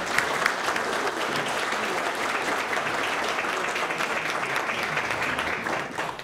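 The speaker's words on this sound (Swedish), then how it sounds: "En applåd." An audience at a book launch on climate solutions gives sustained, even applause, many hands clapping densely for about six seconds before it starts to taper.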